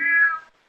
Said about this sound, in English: That kitty cat.